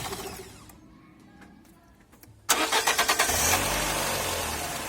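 A 1999 Fiat Brava 1.6 petrol engine cranking briefly with rapid rhythmic pulses, catching and settling into a steady close idle after a quiet start.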